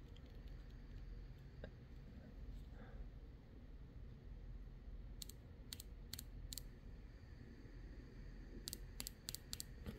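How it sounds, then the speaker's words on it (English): Bench-tested fuel injectors from a Yamaha Waverunner FXHO/FX140 MR1 engine give several faint, sharp clicks in two small bursts over a low background hiss. "It's just a little subtle light click."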